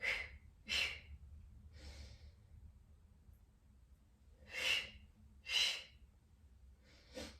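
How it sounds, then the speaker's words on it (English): Forceful exhaling breaths during a Pilates core exercise come in short, sharp bursts, some paired as double exhales, close and clear against a quiet background, with no talking. "You can do a double exhale."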